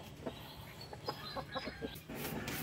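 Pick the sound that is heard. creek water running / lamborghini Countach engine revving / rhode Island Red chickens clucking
rhode Island Red chickens clucking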